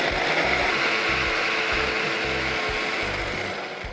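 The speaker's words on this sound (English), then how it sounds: "Let's transfer this into a blender jar and let's run this into a fine puree." A blender purees blanched, peeled, de-seeded tomatoes, a steady mid-loud whir with a rhythmic low thumping pulse as the jar contents churn, fading slightly at the end.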